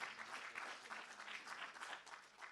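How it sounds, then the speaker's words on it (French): An audience claps steadily in a room, a modest crowd applauding for a couple of seconds. "on peut l'applaudir"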